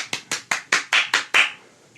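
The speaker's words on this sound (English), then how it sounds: "that's just one of my groupies in my bed, just applauding the end of the dollop there" A few hands clap seven times in a quick, even rhythm in a quiet room, close and fairly loud, then stop.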